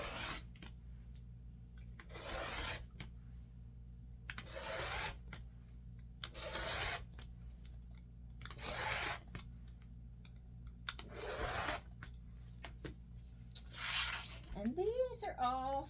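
Cotton fabric strips for quilt sashing are cut in a series of short crisp slicing bursts, about seven separate cuts spaced a couple of seconds apart, close and clear over a faint steady room hum.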